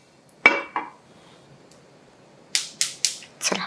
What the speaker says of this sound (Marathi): मोहरी छान चुटचुटायला सुरुवात झाली